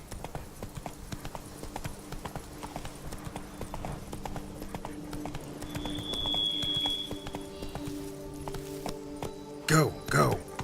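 Roach, the horse in The Witcher 3: Blood and Wine, clip-clopping at a moderate pace with steady hoofbeats, a brief tonal whinny-like sound midway and louder snorting or neighing bursts near the end, with occasional game voice.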